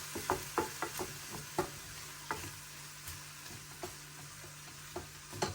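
A spoon stirs hoisin sauce into chicken bao bun filling in a hot pan with the hob just turned off, giving a soft steady sizzle broken by regular scraping strokes.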